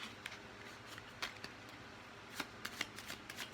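Tarot cards being shuffled by hand, soft rapid riffling with scattered crisp snaps, quiet and close.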